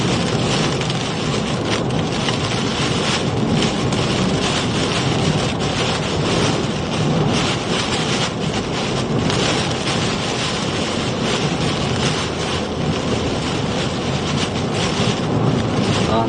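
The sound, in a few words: intense wind during Hurricane Debby storm chase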